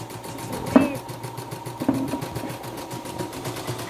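A CNY E960 portable embroidery machine runs at speed with a steady, rapid mechanical stitching hum and a regular needle rhythm, plus a couple of sharper clicks near the start.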